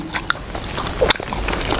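Crunchy cinnamon churro bitten close to the mic, a brittle crackle of chewing at close range with faint murmurs around it.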